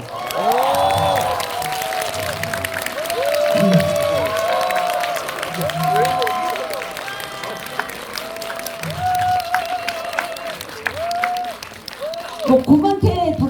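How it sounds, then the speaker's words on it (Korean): An audience at a film Q&A screening applauds and cheers, a crowd clapping beneath voices that rise and fall throughout, with a burst of louder cheering close by near the end. "오늘 여러분들 박수 한번"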